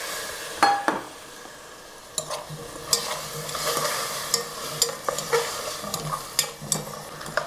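Cabbage and other vegetables stir-fry in a pan with added mushroom water for a Korean vegan tteokbokki, with a steady sizzle and repeated sharp scrapes and clinks of a utensil against the pan, no talking.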